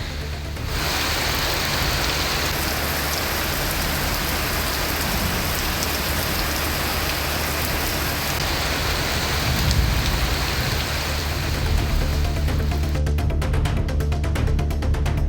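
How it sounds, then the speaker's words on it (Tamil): Heavy rain pours down steadily in Ariyalur district, a dense, loud, continuous hiss of rainfall that holds without a break from start to finish, with no voices. "அரியலூர் மாவட்டத்தில் பல்வேறு இடங்களில் 2வது நாளாக கனமழை கொட்டி தீர்த்தது."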